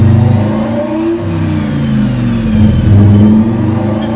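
Boosted Lamborghini engine revving while warming up in a shop, close and loud, its pitch rising and falling through several throttle blips over a low steady idle.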